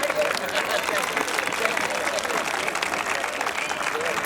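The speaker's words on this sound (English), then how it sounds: "Let's have a round of applause to thank the entire school district community for supporting our programs and our students." An audience gives steady, dense applause at a school district's grand re-opening and re-dedication ceremony, with many hands clapping continuously throughout.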